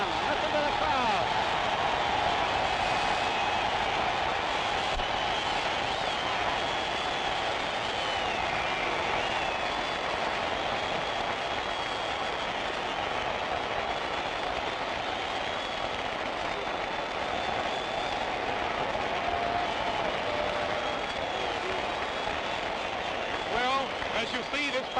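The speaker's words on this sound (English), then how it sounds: "Listen to the crowd." Crowd noise at a televised boxing match, Floyd Patterson versus George Chuvalo, a continuous dense roar of cheering spectators that stays steady throughout with a commentator's voice mixed in.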